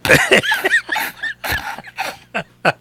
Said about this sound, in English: You even got me coughing over here.